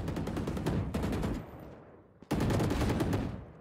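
Rapid automatic gunfire in the video game Valorant, two bursts of sharp repeated shots separated by a brief quiet gap, loud and close, with the second burst resuming abruptly.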